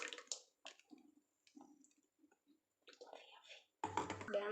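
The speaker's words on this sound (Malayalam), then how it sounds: "നമുക്കിനി ഇത് അരിച്ചൊഴിക്കാം." Blended raw mango and mint juice is strained, giving faint squishing, dripping and trickling sounds in short bursts. A louder pour or splash comes at the end.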